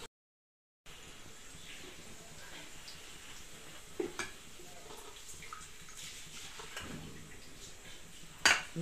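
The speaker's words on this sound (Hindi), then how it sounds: "अब मैं ये प्याज इसमें से निकाल लेती हूँ," Fried onions are lifted out of a cooking pan under a faint steady sizzle, with a few soft scraping and clinking touches of a utensil against the pan and one sharper clank near the end.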